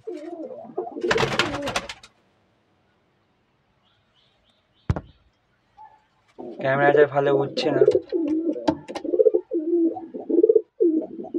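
Pigeons coo in a loft between bursts of close conversation in Bengali; the rolling coos come in short phrases, mostly under or beside the talking, with a sharp knock midway.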